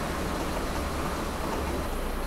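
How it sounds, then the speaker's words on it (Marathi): Heavy monsoon rain on an MSRTC bus arriving in Latur, heard as a steady, dense broadband wash of rain and road rumble with no talk over it. "पाऊस तुम्ही पाहिला असेल, काय भयानक पाऊस आहे."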